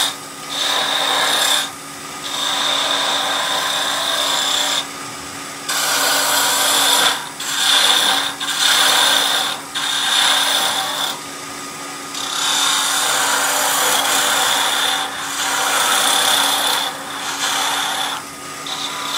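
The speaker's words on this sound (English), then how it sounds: "The spindle gouge will do a little OG at the top." Spindle gouge cutting wood on a lathe while turning a Christmas pyramid piece: a steady rasping, whirring scrape that comes in repeated passes with brief pauses between them, fairly close and without speech.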